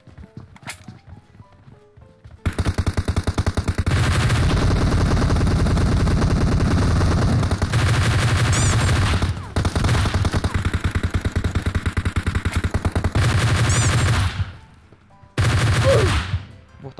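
Sustained bursts of automatic gunfire from the PUBG Mobile battle game, loud and rapid, in long strings broken by short pauses, with a lone sharp shot near the start.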